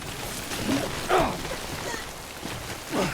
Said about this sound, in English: It's okay, I'm almost out of the rain.